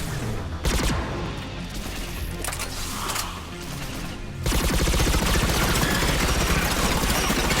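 Gunfire in the Mass Effect 3 video game, sustained rapid automatic bursts crackling close and loud, becoming a dense, unbroken stream of shots in the second half.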